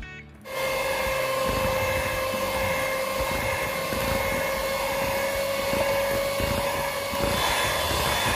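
An electric mixer beats cake batter with powdered sugar for a layered lapis legit, a steady loud whirring drone with a high motor whine that runs unbroken from start to finish, with no voices over it.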